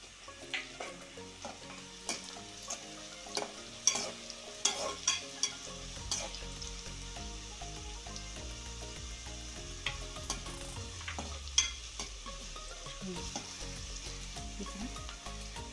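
Cashew nuts frying in a pan until brown for a restaurant-style spinach chicken curry: a steady close sizzle runs throughout, broken by scattered clinks and scrapes of stirring, with no talking.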